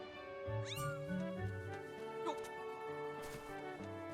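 Cat meowing in The Legend of Zelda: Skyward Sword HD, a few drawn-out, wavering meows over soft game background music, fairly quiet.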